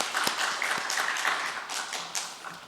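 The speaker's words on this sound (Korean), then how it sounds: "서로를 위해서 박수 한번 하겠습니다" Church congregation at a Sunday service clapping for one another, a scattered, moderately quiet patter of hands with a few sharper individual claps standing out.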